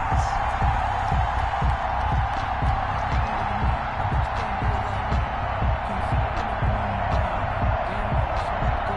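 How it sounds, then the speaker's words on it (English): Stadium crowd roaring steadily at a Jets versus Eagles football game as the home defense holds on the opening drive, a dense continuous wash of cheering with scattered claps and shouts. "And this crowd loves it as their guys hold on the opening drive."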